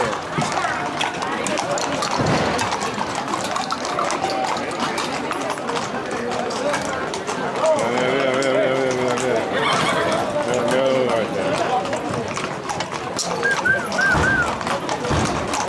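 Horse moving at a trot through the crowd at the Encamisá festival in Torrejoncillo, hooves and an occasional whinny mixed into loud, continuous crowd noise with cheering and chatter throughout.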